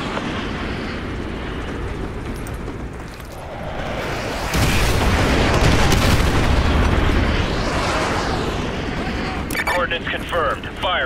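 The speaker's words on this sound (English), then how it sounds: "Artillery inbound." Artillery strike explosions in the video game Call of Duty: Modern Warfare 2, a sustained roaring barrage of heavy booms that swells loud midway and rumbles on, with radio-style game voices talking over it.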